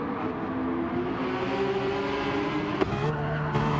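Porsche 911 GT3 RS race cars at the Nürburgring GP circuit drag-race toward the finish line, a loud, sustained engine roar with rising pitch and a brief sharp transient near the end.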